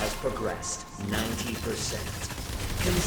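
Rapid gunfire and reloading in the dinosaur shooter ExoPrimal crackle in quick bursts at moderate volume, mixed under someone speaking Thai.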